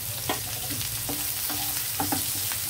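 Onions and curry leaves frying with dal in a pan for a cashew eggplant fry, a steady sizzle with occasional spatula stirs and scrapes, no talking.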